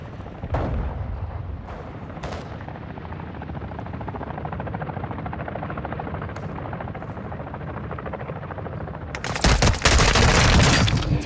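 Gunfire in the Call of Duty DMZ game mode, a few sharp shots early on over a steady helicopter drone, then a loud, dense burst of firing near the end.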